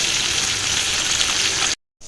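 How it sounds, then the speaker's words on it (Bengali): Parshe fish fry in a pan with a steady, loud, dense sizzle and crackle that runs unbroken, then cuts off abruptly near the end. "এই দেখো এখানে বসিয়েছি পার্শে মাছ ভাজা হচ্ছে"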